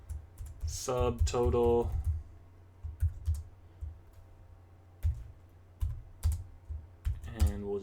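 Computer keyboard typing in quick bursts of clicks, with someone talking over and between the keystrokes while entering Python code.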